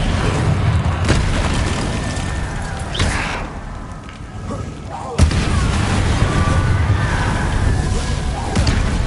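Confringo fire spell blasts in the Hogwarts wizarding video game, booming bursts with a whooshing edge, the strongest near three and five seconds, over a continuous noisy game background with a voice calling out spells.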